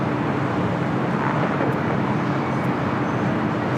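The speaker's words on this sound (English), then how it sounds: "Our next arrival on the north side is Frontier Wiley the Bison livery, coming up from SFO and A320 Neo." Frontier Airbus A320neo in Wiley the Bison livery arriving at LAX from SFO, heard as a steady, loud broadband jet roar that holds constant throughout with no voices.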